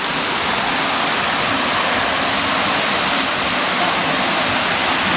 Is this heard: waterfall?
yes